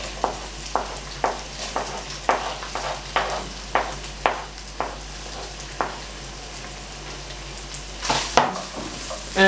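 Bacon with onions and garlic frying in a pan, a soft steady sizzle punctuated by regular scraping stirs of a utensil against the pan, with a louder clatter near the end.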